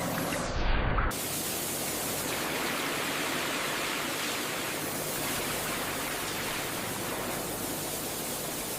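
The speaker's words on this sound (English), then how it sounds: "A high-pressure washing chamber strips away mud, dirt, and stubborn surface contaminants." A high-pressure washing chamber blasts recycled plastic waste clean of mud and dirt, producing a loud, steady hiss of spraying water that runs unbroken after a brief louder burst at the start.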